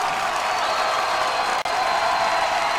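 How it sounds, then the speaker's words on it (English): A high school football crowd roars during a field goal attempt in a Colerain vs. St. Xavier game. The noise is a dense, sustained wash of cheering and applause from packed stands, with one brief dropout. "Trying to make some noises, this crowd. They are electric tonight."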